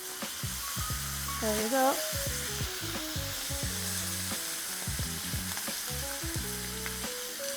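A ribeye steak sizzles and crackles steadily in a hot pan as it is flipped, the frying loud and close throughout while a voice speaks briefly over it.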